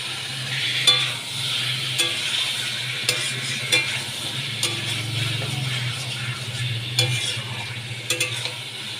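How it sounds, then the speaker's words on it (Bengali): Young jackfruit sautés in a pan with a steady sizzle, while a utensil scrapes and stirs in repeated strokes close by, with no talk. "ভালো করে আমি কষিয়ে নিচ্ছি"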